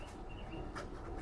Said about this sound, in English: You hear the birds? They're used to flying up in here.